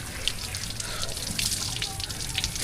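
Shower water runs at an inexpensive bathing spot, a steady broadband hiss and patter with no break, fairly close.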